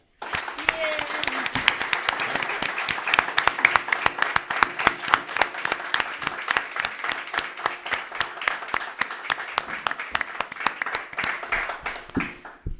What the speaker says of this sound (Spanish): para la propia Victoria, un fuerte aplauso.